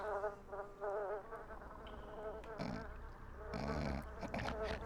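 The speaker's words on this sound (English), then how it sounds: "you're just hearing bees for this whole area" Constant insect-like buzzing of bees as ambient sound in The Sims on PS2, a steady wavering drone with occasional brief game effects breaking in; no speech.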